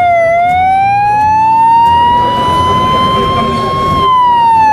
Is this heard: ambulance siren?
yes